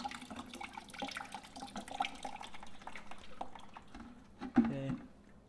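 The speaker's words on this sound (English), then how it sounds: "Make sure all that water drains through." Coolant water draining out of a motorcycle's cooling system, an irregular trickling and dripping with small splashes, fairly quiet, ending in a brief louder gurgle.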